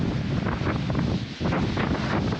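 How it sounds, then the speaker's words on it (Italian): Strong coastal wind buffets the microphone over the wash of sea waves, a dense, loud roar with one brief dip before it surges back. "Sentire la forza della natura, la forza del vento, la forza del mare"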